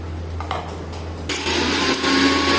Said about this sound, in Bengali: এরপরে আমরা এটুকু কাজু বেটে নেব